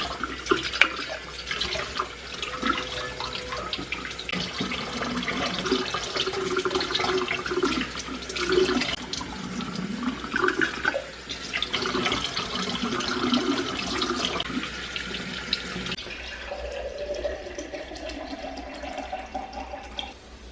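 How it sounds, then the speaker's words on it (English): Water from a tap running steadily into a drinking container at home, a continuous hiss and splash lasting about fifteen seconds before easing into quieter trickling and ambient noise. "I need to refill my water."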